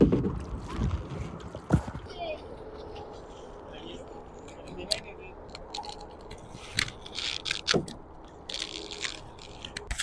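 Kayak paddles dip and splash through shallow water on an outing with a group, irregular sloshes and knocks of the boat, with people talking throughout.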